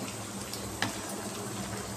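Vegetables for a vegetarian curry simmer in a pot, giving off a steady, soft bubbling hiss that stays even throughout, with one faint click partway through.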